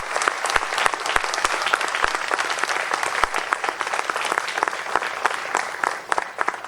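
Audience applause at a Tamil music concert, a dense steady wash of many hands clapping close up, with sharper individual claps standing out and the clapping easing slightly near the end.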